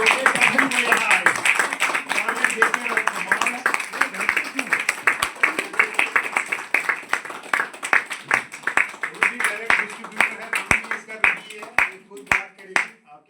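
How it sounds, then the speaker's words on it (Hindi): An audience claps steadily, the applause thinning into scattered, rhythmic claps toward the end, with voices audible underneath. "जितना ताली दोगे तभी मजा आएगा।"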